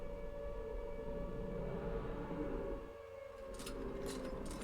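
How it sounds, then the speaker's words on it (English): A droning siren from the video game Silent Hill 2 holds a steady tone over low rumbling noise, dipping briefly before swelling back, with no one speaking. "the siren again."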